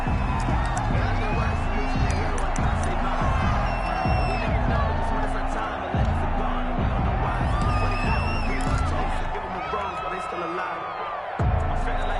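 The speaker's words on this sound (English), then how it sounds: "This crowd is ready" Stadium crowd in the Madden 21 football game at a Falcons versus Panthers matchup, a loud continuous roar with whoops and cheers rising and falling throughout, while an announcer talks over it.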